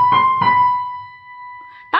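A few soft piano notes ring out and sustain, with a steady held tone fading slowly before a brief new attack at the end.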